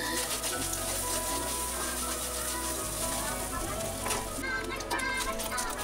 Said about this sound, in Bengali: 5 মিনিট পরে আমার কিন্তু চিকেনটা ভাজা ভাজা হয়ে এসছে